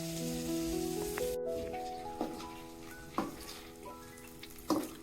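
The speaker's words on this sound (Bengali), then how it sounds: "পেঁয়াজ ভাজা হয়ে গেছে, আমি এখন নামিয়ে নিচ্ছি।" Onions fry in hot oil with a steady sizzle, punctuated by several sharp scrapes and clinks of stirring in the pan.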